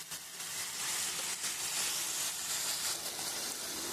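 Spices frying in a pan for a jackfruit and egg curry, giving a steady, soft hiss of sizzling oil that continues without a break at moderate volume.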